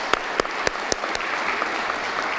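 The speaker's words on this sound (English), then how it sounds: "Let's give them, the students, a round of applause." An audience at a school celebration of excellence gives students a short burst of applause, with several sharp claps at the start before a softer wash of clapping.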